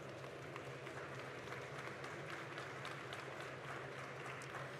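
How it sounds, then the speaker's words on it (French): A convention crowd at a cosplay panel during Japan Expo applauds, a faint, continuous spread of clapping from a distance without pause. "Je vous demande s'il vous plaît de les applaudir bien"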